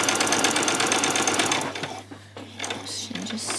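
Sewing machine running an ordinary straight stitch on a bodice, a fast steady whirring hum at close range that slows and stops near the end, with light talk over it.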